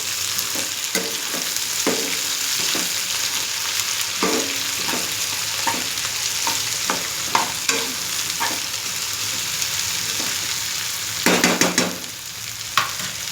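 Okra sizzles steadily in a pan of curry, with a run of sharp scrapes and clinks as it is stirred now and then, and a louder cluster of stirring near the end.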